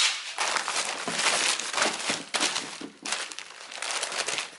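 A plastic bag crinkles and rustles loudly close by in a series of bursts, like it is being handled and pulled open.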